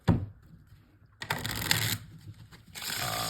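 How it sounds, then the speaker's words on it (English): A deck of playing cards being shuffled for a card trick, short bursts of riffling and flicking with brief pauses between, close and fairly quiet. "then they can shuffle the cards"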